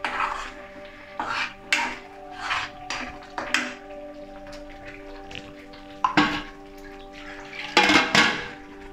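A spoon stirring thick Kolhapur-style egg curry masala in a pan, giving repeated scraping and clinking strokes in short bursts, close and fairly loud, with no talking.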